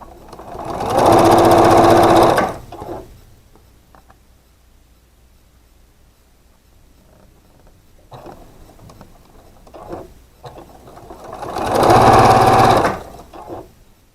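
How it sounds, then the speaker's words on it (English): Sewing machine stitching trapezoid quilt block pieces in two loud bursts of steady whirring, each about two seconds long, separated by a quiet stretch with faint handling noises. "So those need to be sewn as well."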